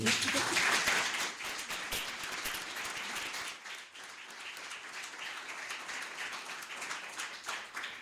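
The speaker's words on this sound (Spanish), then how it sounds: "les pido un aplauso para Hernán, por favor." An audience at a conference gives a round of applause, dense clapping that starts loud and continues steadily at moderate volume, with a slight dip midway before carrying on.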